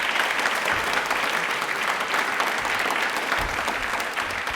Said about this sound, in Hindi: अपने लिए एक बार तालियां बजा दीजिए जोरदार वाली।